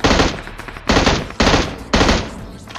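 Shotgun blasts in the battle game Free Fire: four loud, heavy booms about half a second apart, each a broad burst that quickly fades, with no talking.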